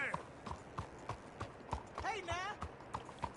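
Horse hooves clip-clopping in Red Dead Redemption 2, a steady walking rhythm of close hoof falls, with a brief whinny midway and quiet talk in the background.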